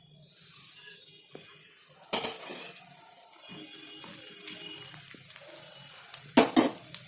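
Cumin seeds sizzle in hot oil for a tomato toor dal, a moderate steady crackle with several sharp clatters of a spoon or pan at intervals.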